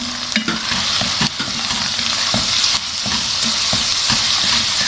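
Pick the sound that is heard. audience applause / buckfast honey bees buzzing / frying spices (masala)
frying spices (masala)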